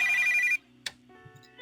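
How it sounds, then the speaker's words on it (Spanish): A phone rings when calling a character in an RPG Maker video game, a steady electronic ringtone that cuts off abruptly, followed by a short click and quiet tones. "deberíamos llamar a Eugene"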